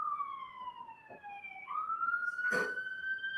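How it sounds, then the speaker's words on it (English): An ambulance siren passes outside a courtroom, a wailing tone sliding down then rising again, moderately loud and continuous, with a brief knock or rustle partway through and no speech. "Hold on, wait for the ambulance and then speak up."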